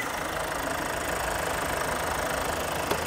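The 2.2 liter diesel engine of a 2021 Kia Sedona idles with a steady, fairly loud clattering rumble heard close up, unchanging throughout apart from a brief click near the end.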